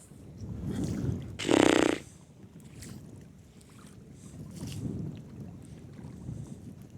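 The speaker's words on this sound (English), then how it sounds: "That's the problem with the wind." Wind buffets the microphone during cast-net fishing for invasive tilapia over water, a low, rumbling gusty noise that rises and falls, with one sharp louder rush early on.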